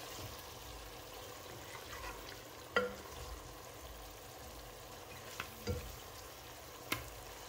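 Mrigal fish pieces and fish head frying in oil in a pan, a quiet continuous crackle and sizzle with a few sharp clinks and knocks scattered through.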